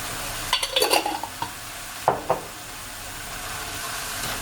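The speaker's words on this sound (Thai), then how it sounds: "ผัดให้เข้ากัน" Instant noodles stir-fried with sweet dark soy sauce in a pan: a steady sizzle throughout, with a cluster of metal spatula scrapes and clinks early on and a couple more a bit later, close by, with no talk.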